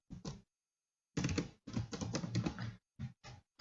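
Computer keyboard keys are struck in short bursts of clicks, one quick pair, then a longer run of rapid typing, then two single taps, close and clear in a quiet room.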